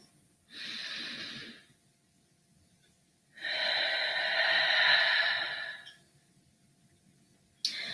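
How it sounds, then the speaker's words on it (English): Two slow, deep breaths are drawn in close to the microphone, the first short and the second long and full, each followed by quiet, during a morning prayer session. "You just take a couple deep breaths in with me."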